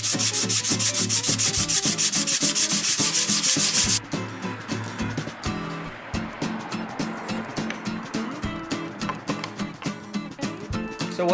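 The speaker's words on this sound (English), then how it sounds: "We're sanding them down here so they fit precisely to the one we measured." Hand-sanding wood pieces for a railway caboose restoration: a dense, loud continuous rasp at first, then a run of quick rhythmic back-and-forth sanding strokes, close by with no speech.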